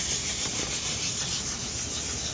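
A car headlight lens is hand sanded with 1000 grit sandpaper, giving a steady, close, dense rubbing hiss with no pauses and no voices.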